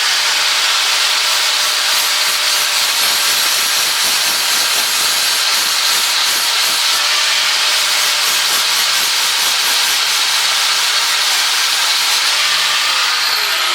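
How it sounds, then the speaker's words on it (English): A power grinder works the edge of a vintage Gambles axe head, a loud continuous harsh hissing whine with steady rasping contact, close up and unbroken for the whole stretch, no voices. "I'm going to go ahead and hit this with the grinder like so"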